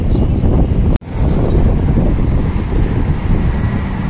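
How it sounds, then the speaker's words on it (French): Steady wind in Gibraltar buffeting the microphone, a low rumbling roar that continues throughout with one brief dropout near the start. "Le vent s'est levé un petit peu là."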